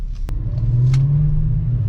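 Volkswagen VR6 engine in a Jetta wagon idles with a steady, close low rumble, its pitch rising slightly as it is revved gently, with a sharp click near the start.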